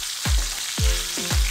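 Steak frying in caramelized butter in a pan, a loud continuous sizzle broken by several sharp thuds as the meat is shifted and flipped.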